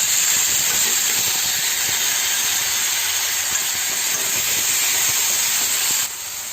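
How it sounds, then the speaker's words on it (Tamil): Tomatoes frying with shallots in a pan for poondu kuzhambu, a loud, dense, continuous hiss that holds steady and drops slightly just before the end. "தக்காளி ஃப்ரை ஆகிட்டுருக்கு."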